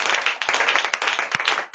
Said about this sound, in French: Acclamons pour le roi de roi.